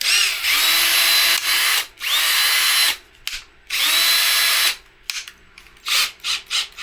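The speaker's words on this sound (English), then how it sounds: "now this is a chuckless drill, so turn it down on low" A chuckless power drill whirs in several bursts, a high whining spin running for about a second or two at a time with short pauses between and quick stuttering pulses at the end, close and loud.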